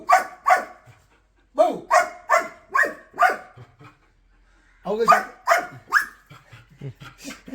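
A dog barks in short bursts, a quick run of yappy barks, a pause, then another cluster, close by with nothing else around.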